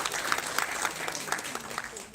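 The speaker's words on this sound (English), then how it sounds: "A big round of applause for ma'am." An audience claps for a guest called to the stage at a health conclave, a dense wash of applause mixed with crowd noise and talking.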